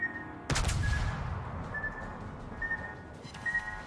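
A single heavy naval gun blast in World of Warships, a loud booming report with a rumbling tail that fades, followed by quieter faint distant firing and game tones.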